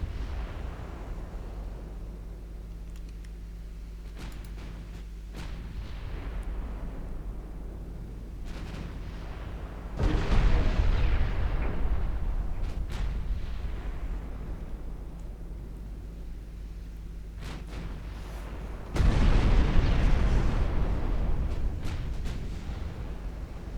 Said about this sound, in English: This is when those 13-inch guns start to hurt.